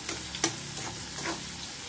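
Onion and chili sautéing in a pan for a potato bhaji, giving a steady close sizzle with a few brief stirring scrapes over about two seconds, no voices.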